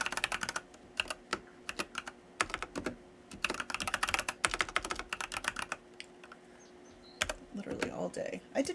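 Rapid bursts of keystrokes on a computer keyboard, clicking in uneven clusters with short pauses, fairly close and quiet. The typing stops near the end and a low murmur of voices takes over.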